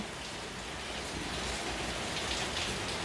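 Steady rain falls outdoors as an even, continuous hiss, faint and unbroken throughout, with no voices.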